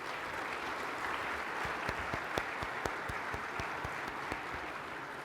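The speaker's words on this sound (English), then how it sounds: "Please join me in a warm round of applause for these extraordinary intelligence community leaders." A crowd applauds at an award dinner honoring intelligence community leaders, its dense wash of clapping heard from a distance and dotted with a few sharper, closer claps.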